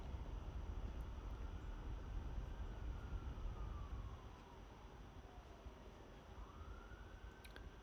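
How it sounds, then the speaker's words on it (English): Faint ambulance siren wailing outside an open window, a distant rising and falling tone over low traffic rumble that fades slightly partway through. "Sorry for the ambulance coming by right now."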